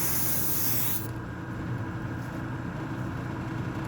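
A spray gun hisses steadily and loudly while painting a 1969 Dodge Coronet Super Bee. The spray is continuous, with a brighter burst in the first second, and no voices are heard.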